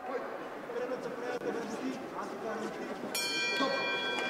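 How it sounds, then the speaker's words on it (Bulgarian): A metallic gong rings out at the end of the first round of a fight event, a bright sustained tone that enters near the end over an excited commentator and crowd noise. "Ето го гонга за край на първи рунд."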